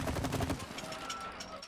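Video game gunfire in the co-op game It Takes Two: a rapid burst of loud shots in the first half second, then a fainter ringing, rattling tail with softer game effects.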